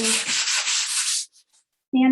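Steady abrasive scraping of a sanding block rubbing back and forth on wood, close up, then it stops and a voice begins.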